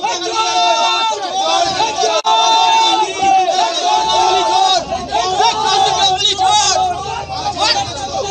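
An agitated street crowd chanting slogans at arrested men being led away, dense overlapping shouting voices in rhythmic bursts, loud and close, with general hubbub throughout.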